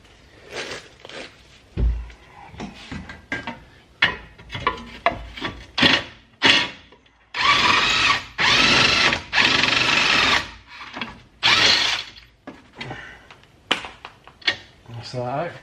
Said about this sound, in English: Get that bolt out now.